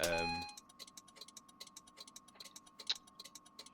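A car indicator in Lotus Simulator clicks in a steady, quick rhythm, faint and close, after a short tone at the start.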